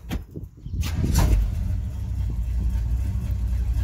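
A custom 1968 GMC C20 truck engine cranks and catches within about a second, then settles into a steady, close, rumbling idle.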